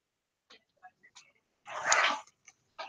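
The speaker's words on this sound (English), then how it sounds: "My dogs is over here bugging." Pet dogs fussing indoors, a few faint short whimpers and yips spaced apart, then a louder sustained bark-like whine, followed by more small scattered yelps, fairly quiet and close.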